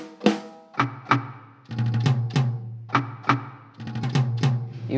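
Repeated hits on the drum pad heads of an Artesia A-50 electronic drum kit, sharp struck tones with deep, ringing low bodies in irregular groups of strikes, close and clear with no talk.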